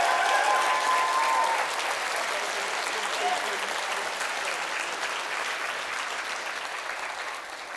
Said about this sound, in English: So, round of applause to them, please.